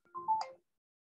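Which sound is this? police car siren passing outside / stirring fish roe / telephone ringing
telephone ringing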